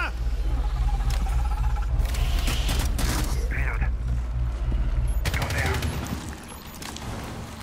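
Sustained bursts of automatic gunfire in Rainbow Six Extraction rattle loudly over a low rumbling backdrop, with mechanical clatter between volleys and a brief quieter stretch near the end.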